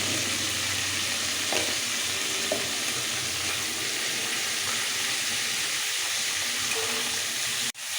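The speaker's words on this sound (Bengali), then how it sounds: "কালো জিরে ফোড়ন দিচ্ছি।" Black cumin seeds crackle and fizz in hot oil as a tempering for a prawn and vegetable stem curry, a dense continuous sizzle with faint spoon scrapes, ending in a brief knock.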